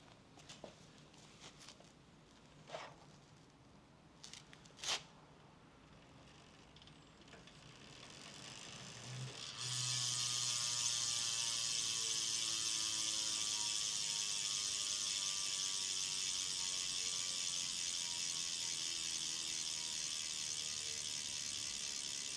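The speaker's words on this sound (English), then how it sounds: "I'll do my best to spin the wheel." Canyon road bike rear hub freewheel spinning after a few faint handling knocks, a fast, even ticking whir that starts suddenly midway and runs steadily at moderate loudness to the end.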